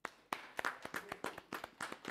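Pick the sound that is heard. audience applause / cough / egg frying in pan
audience applause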